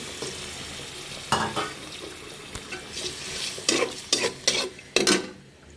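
Water poured into a frying pan of greens, sizzling with repeated stirring scrapes that come in bursts over a steady hiss, close by with no talking.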